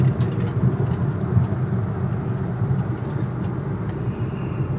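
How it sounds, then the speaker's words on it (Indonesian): A 2014 Toyota Etios Valco with Black Core tuning pulls hard in fifth gear from about 40 km/h, heard from inside as a steady, loud low engine drone and road rumble with no talking. "Nyalip gigi 5 dari speed 40, kita injek gas dia langsung naik"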